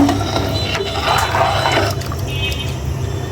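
Water pours steadily into a cooking pot of khichuri with sautéed rice and pumpkin, a continuous splashing, gurgling fill close by with no talking.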